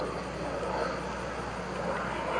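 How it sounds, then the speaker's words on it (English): An L-39 Albatross jet flying at an air show gives a steady, broad roar of engine noise that stays loud and constant throughout, with no break. "he's going to pick up speed in the airplane"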